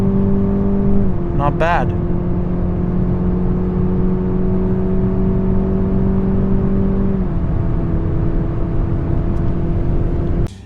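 A luxury sports car in sport mode, its engine humming and rising in pitch as it accelerates from inside the cabin, with a steady drone shifting between gears and a brief spoken remark over it.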